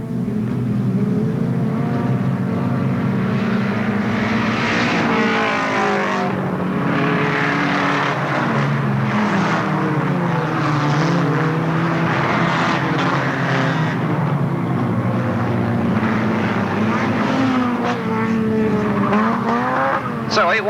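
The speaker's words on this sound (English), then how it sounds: "All cars making lots of noise, down goes the flag and away they go then." 1300cc standard rod race cars roar away together at the start of a race, a loud, continuous pack of engines revving and droning under a commentator's voice throughout.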